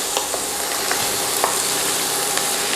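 Garlic seasoned with salt and black pepper sautés in a pan for an oxtail dish, a loud close sizzle with a few sharp clicks as the ingredients are stirred.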